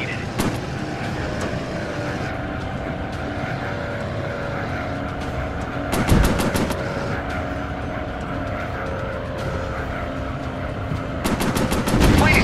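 Warplane machine guns fire in a Pacific air combat video game as short rapid rattling bursts over a constant loud engine drone.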